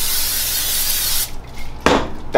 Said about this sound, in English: spray the pan